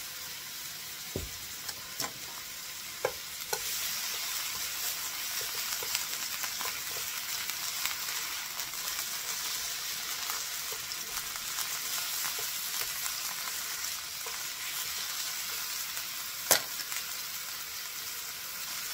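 Beef sizzling in a pan while being stir-fried for yaki udon, a steady soft hiss of frying with occasional clinks and scrapes of a utensil, no voices.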